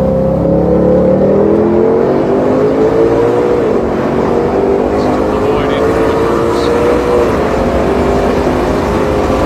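A race car on warm-up laps with tires not yet up to temperature drones loudly from the cockpit, its engine note climbing steadily through the gears with a brief dip and rise, a continuous hum over road noise.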